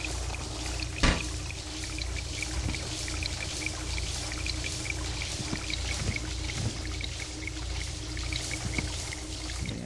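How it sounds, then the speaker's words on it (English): Water pours steadily from a toilet in the horror video game Nanashi no Game, a continuous trickling splash under a low ambient drone, with one sharp knock near the start. "Though we have no idea where that water sound was coming from."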